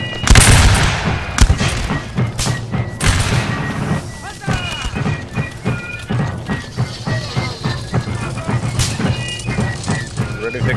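A line of reenactors fires muskets together at a Revolutionary War Battle of Camden reenactment, with a loud booming volley followed by scattered rattling shots and echoes. Shouted commands come in between.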